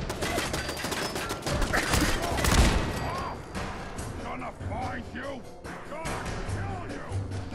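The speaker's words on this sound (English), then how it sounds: "It's a damn turret shooting at me." A turret in Fallout 4 fires rapid bursts at the player, dense at first and then thinning, with someone talking over the gunfire throughout.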